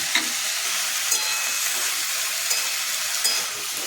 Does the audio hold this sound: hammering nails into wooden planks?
no